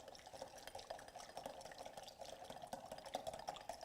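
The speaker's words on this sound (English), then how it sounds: "Give it a little whisk." A salad dressing with coarse sea salt and black pepper is whisked in a bowl. The whisk gives a quiet, steady, rapid scraping and sloshing that continues evenly throughout, faint and close, with no talk.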